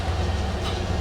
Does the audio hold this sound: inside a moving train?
yes